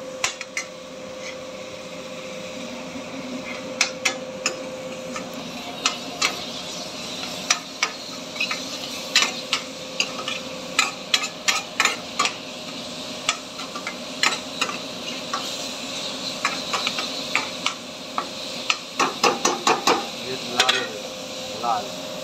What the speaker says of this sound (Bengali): বন্ধুরা, পেঁয়াজ রসুন ভাজা হয়ে গেছে